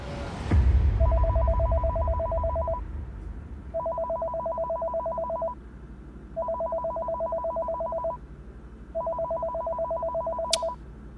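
A telephone rings at a police station, four evenly spaced electronic ringing bursts with pauses between, clear and alone.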